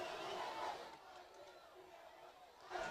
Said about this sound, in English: You can hear the rodeo fans down below, the student body, all dressed in their cowboy outfits, cheering